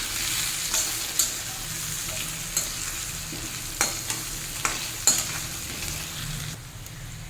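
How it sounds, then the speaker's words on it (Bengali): Egg curry with turmeric and chili powder sizzles steadily in a pan while a spatula stirs it, its scrapes and knocks landing at irregular intervals over the continuous frying. "ভালো করে এটাকে আবারও নেড়ে দেবো।"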